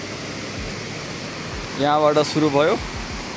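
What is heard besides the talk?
waterfall on a hiking trail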